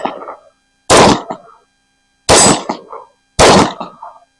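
Rifle shots fired at steel targets around 717 yards away: three loud, sharp reports spaced about a second apart, each with a rumbling decay, following the fading tail of an earlier shot. No talking.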